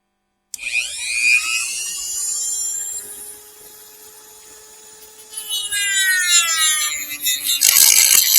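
A Dremel rotary tool fitted with a cutoff wheel spins up with a high whine, then cuts, its pitch sagging under load before rising again with harsher grinding toward the end.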